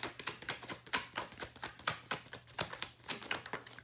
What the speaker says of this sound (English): Let's keep shuffling here.